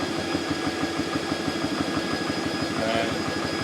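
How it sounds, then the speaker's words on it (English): A BSA portable PCP air compressor runs steadily, a continuous mid-pitched motor drone with a fine rhythmic pulsing and fan hum as it builds pressure toward 100 to 150 bar, fairly close and unbroken for the whole stretch. "There we go, it's building the pressure now."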